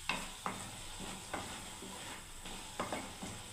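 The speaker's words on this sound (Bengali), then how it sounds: "দেখুন সবজিটা ফুটছে" A pot of bottle gourd and black chickpea curry bubbling on the stove gives a continuous hissing simmer with regular soft pops and plops about every half second, close and fairly quiet, without voices.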